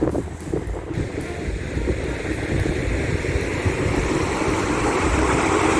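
Rough sea at Waverly Beach, New Zealand, heard as a steady, loud roar of surf and waves mixed with heavy wind buffeting the microphone, continuous throughout with no voices.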